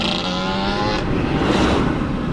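A car revs hard and its wheels spin, giving a loud, close engine roar that climbs in pitch and then shifts into a rougher, noisier rush partway through.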